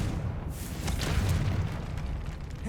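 A Confringo fire spell in Hogwarts Legacy bursts into a rumbling explosion, a low boom swelling for a couple of seconds over a steady roar of game effects.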